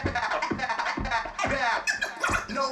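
DJ scratching laid over a boom bap hip-hop beat, with rapid stuttering scratch sweeps riding above steady kick hits, loud and busy throughout.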